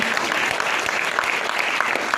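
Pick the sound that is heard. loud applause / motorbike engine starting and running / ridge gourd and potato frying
loud applause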